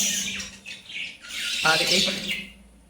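Month-old budgerigar chicks in an aviary room squawk and chirp in rapid, harsh bursts close by, with a louder cluster of cries near the end.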